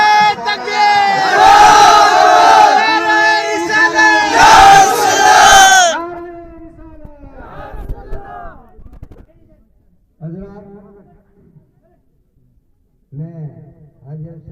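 Loud crowd roars back in unison at a mosque foundation-stone ceremony in Kalyanpura, the chanted response lasting several seconds before it drops away to scattered voices and short bursts of speech.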